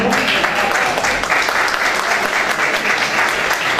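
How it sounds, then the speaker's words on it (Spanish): A lecture audience at a university letters-week talk breaks into sustained, dense applause that holds steady and loud throughout, a wash of many hands clapping together with no pauses. "Lo recibimos con un fuerte aplauso."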